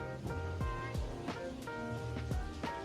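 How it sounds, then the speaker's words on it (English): Water drips in a house under construction, a series of distinct plinks falling at a loose, uneven rhythm, a few per second, moderately close in an otherwise quiet room. "I didn't even hear that dripping when I went in there the first time."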